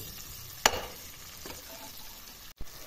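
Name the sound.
vegetables frying with spices being stirred in a pan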